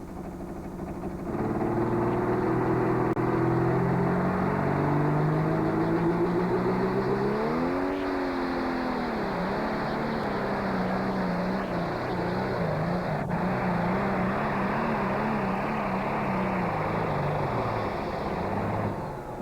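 A pulling tractor revs hard off the line in a tractor pull, a loud continuous engine roar with rising and wavering pitch that holds steady throughout, rough and strained, with no talk over it.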